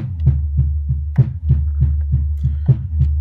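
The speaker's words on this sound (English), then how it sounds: "and then you hear the echo" A short sound repeats in an even rhythm, about three times a second, each repeat trailing off over a steady low hum, like a looping echo.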